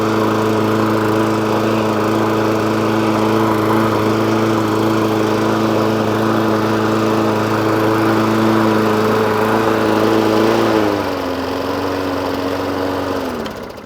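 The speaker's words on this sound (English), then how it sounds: "Managed to get this this little tiny lawnmower now all running" A Hayter Ranger 53 lawnmower engine runs steadily and loudly up close, holding a constant droning pitch before the revs drop slightly near the end.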